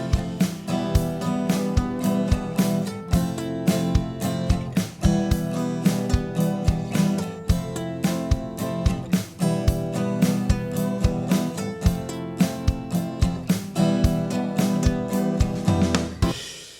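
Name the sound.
pre-recorded acoustic drum track from GarageBand iOS Virtual Drummer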